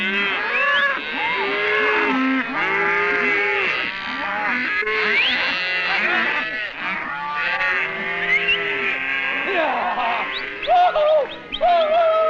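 Cattle moo continuously on an open Arizona Strip range, cows calling to their calves in overlapping, drawn-out lowing from several animals nearby, with no speech.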